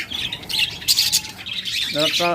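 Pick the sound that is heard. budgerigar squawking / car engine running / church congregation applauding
budgerigar squawking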